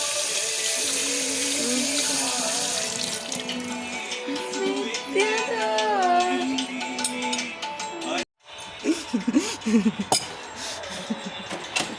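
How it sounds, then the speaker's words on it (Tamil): Running tap water splashes while hands are washed in a home kitchen where rice, dal and boiled eggs are being cooked, with dishes clinking and voices talking over the flow, briefly cut off near the end. "சாயினாராயண அந்த கை கழுவு"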